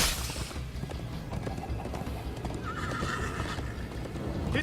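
In Minecraft: Story Mode, a horse whinnies and gallops with rhythmic clip-clop hoofbeats under loud, continuous action-scene noise, without clear talk.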